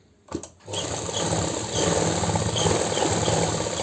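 A sewing machine stitches a kurti collar along the buckram edge, a fast, even mechanical whirr that starts after a brief click and runs steadily.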